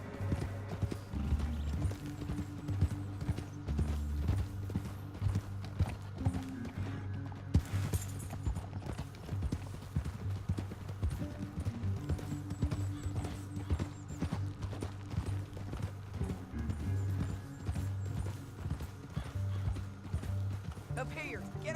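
Horse hooves clip-clop in a steady galloping rhythm while riding in Red Dead Redemption 2, joined by a whinny and jingling tack, over a low musical score with voices talking intermittently.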